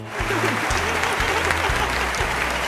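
Steady applause from a small group rewarding a correct answer to a riddle, continuous clapping throughout with a low droning hum underneath.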